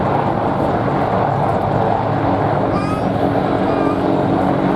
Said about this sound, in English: The Wildcat you see repositioning in front of you is a small, agile helicopter